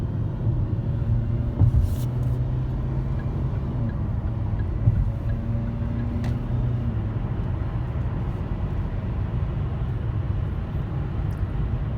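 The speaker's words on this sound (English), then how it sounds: "I'm going to get it up to speed a little bit, go up and exit." Hyundai Sonata hybrid accelerating up a highway on-ramp at about half throttle, a steady low engine and road rumble inside the cabin with faint rising tones and a few small clicks.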